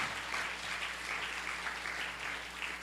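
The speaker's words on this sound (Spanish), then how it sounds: "Denle un aplauso al Señor" A church congregation applauds in a continuous, fairly soft wash of clapping, somewhat distant, over a low steady hum.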